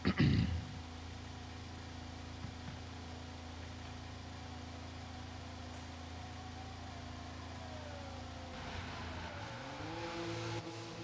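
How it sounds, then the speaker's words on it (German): In the F1 22 racing game at the Le Castellet circuit, a race car idles with a steady engine drone before its pitch rises as it pulls away from the garage. "Garage räumen, der Wagen fährt gleich aus."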